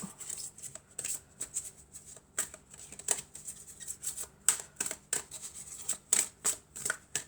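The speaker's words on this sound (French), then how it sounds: "je vais mélanger encore" Tarot cards shuffled by hand in a quiet room, a run of soft, irregular riffling flicks and slaps that come in close, uneven bursts with brief pauses, no voices over them.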